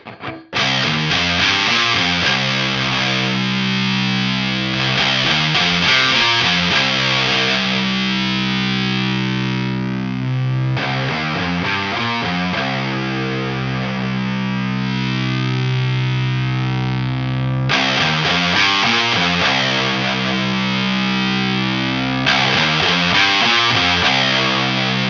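Electric guitar played through a Red Rox distortion pedal with its tone control adjusted, thick saturated chords ringing loud and sustained across several passages, with short breaks between sections.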